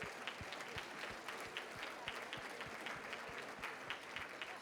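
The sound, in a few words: audience applause at a luncheon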